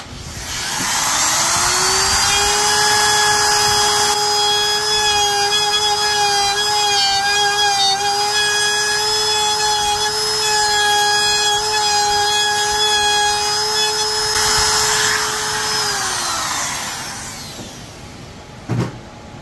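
Power tool cutting out wood from a hall tree being disassembled for repair: a loud, steady whining drone holds for about fifteen seconds, then winds down and stops, followed by a brief knock.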